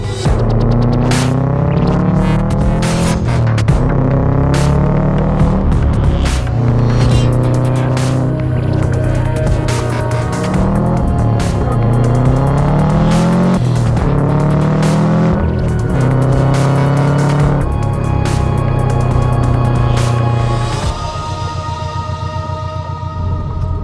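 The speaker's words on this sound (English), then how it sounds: "it actually amazes me how well this car is running and how well it stood up" A Subaru Prodrive engine climbs Franschhoek Pass, heard close and loud as it repeatedly revs up in pitch, drops with each gear change and pulls again, then eases off near the end.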